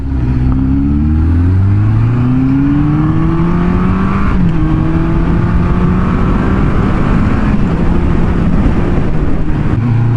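Suzuki GSX400F motorcycle engine heard while riding, a loud continuous drone with rising and falling revs as the bike accelerates and shifts, steady wind-like roar throughout with no talking.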